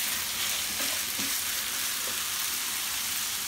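Meat frying in a pan on a gas stove, giving a continuous dense sizzle and crackle that stays steady and close throughout, with a few faint stirring clinks underneath.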